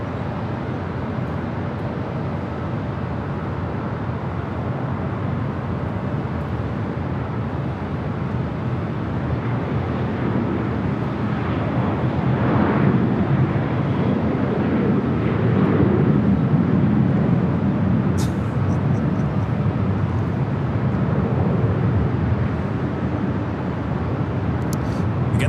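An Emirates Airbus A380 takes off on runway 24 Left at Los Angeles International Airport, heard as a distant, slowly swelling roar under a broad wash of airport background noise.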